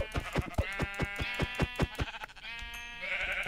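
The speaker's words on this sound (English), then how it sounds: "Oh, sheep." Sheep bleat in a rapid series of close, wavering calls, about a dozen quick bleats followed by a longer drawn-out cry, with no talk over them.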